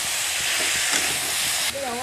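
Mustard paste being stirred into chalta (elephant apple) pickle in a hot pan, giving a steady loud sizzle with scraping stirs throughout, the hiss dropping slightly near the end.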